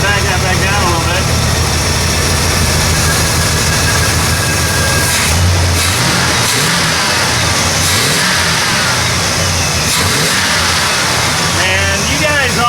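An Oldsmobile 442 with a Rochester carburetor runs near and loud throughout, with a steady idle around 1100 RPM and a few brief revs along the way.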